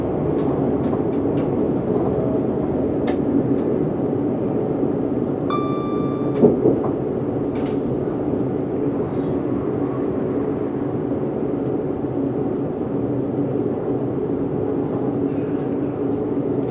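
A Watford DC line electric train runs steadily from a cab position, a continuous broadband rumble and rolling noise with a few brief clicks and a short tonal whine partway through, and no talking.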